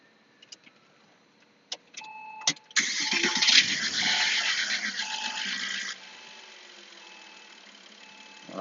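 A 2002 Porsche Boxster S with a 3.2L engine and fault codes P1128 and P1130 starts up close by. A few faint key clicks come first, then the starter cranks and the engine catches into a loud, rough run for a few seconds before it settles to a quieter idle.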